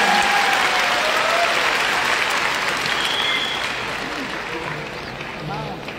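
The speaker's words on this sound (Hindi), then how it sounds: "तालियां सभी महिलाओं के" Steady, full applause from an audience at a company event honouring award-winning women, dense clapping that holds for several seconds before gradually softening, with faint voices underneath.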